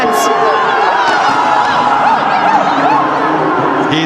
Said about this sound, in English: The crowd are loving the power from these Indian batters.